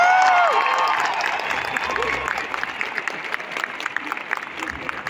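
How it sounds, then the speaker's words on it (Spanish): A stadium crowd at a rock concert at Estadio Nacional breaks into loud, dense applause, a steady wash of clapping with some cheering, after a brief amplified voice at the start. "le mandamos la mejor de las vibras con este fuerte aplauso del público"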